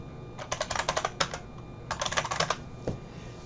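Someone types a command on a computer keyboard in two quick flurries of close, crisp key clicks, separated by a short pause and ending with one firmer keystroke.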